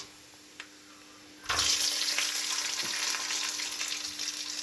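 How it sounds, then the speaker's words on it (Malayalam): Cashew nuts frying with coconut pieces for Kerala-style payasam burst into a loud, dense sizzle as they hit the hot pan, then crackle steadily and close by until the end, after a quieter moment with a single small clink. "ഈ കശുവണ്ടി അത് വറുത്തെടുക്കണം."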